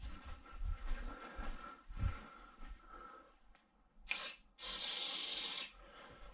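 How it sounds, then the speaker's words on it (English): Silicone spray hissing from an aerosol can during work on a Peugeot 205 GTi Mi16, a short burst followed by a longer steady spray, close and fairly loud. "I'm going to get some silicone spray on it"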